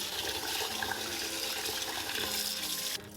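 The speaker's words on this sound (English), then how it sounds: "We're going to rinse it until the water becomes clear, so for at least 10 times." Japanese short grain rice being rinsed in a pot under a running kitchen tap, with a steady, close rush of water that drops off sharply near the end.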